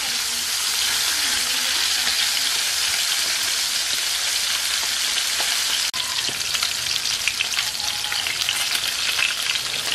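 Chicken pieces browning in a pan for a Coca-Cola chicken dish, a dense, loud, continuous frying crackle and sizzle close by, with one brief knock midway and no speech.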